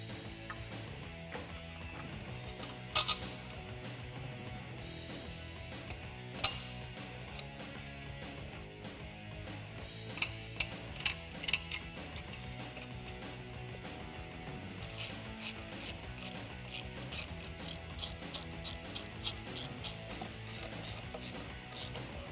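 A ratchet with a 10mm socket tightens exhaust bolts on a 2018-2020 Mustang GT Magnaflow cat-back, giving sparse bursts of quick close clicks over a steady low background hum.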